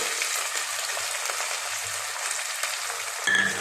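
Coriander, curry leaves and mint sizzling with masala in a pan for egg and chicken biryani, a steady soft frying hiss that holds throughout before a brief louder clatter near the end.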